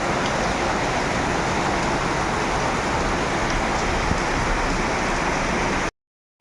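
Steady rain pours down in a dense, even hiss, with a faint low rumble beneath and no voices, cutting off abruptly near the end.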